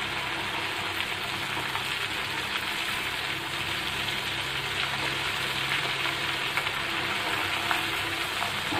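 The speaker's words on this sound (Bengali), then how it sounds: "আমি এটাকে টোটাল 10 মিনিট ভাজবো" KFC-style large chicken leg pieces deep-frying in reused, foaming oil, a steady dense bubbling sizzle that holds evenly throughout, close and without talk.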